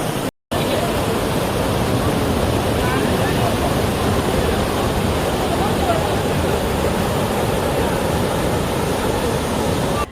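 Water overflowing and rushing at an outdoor bathing spot, a loud, steady broadband roar of churning flow that continues without a break from just after the start to the end.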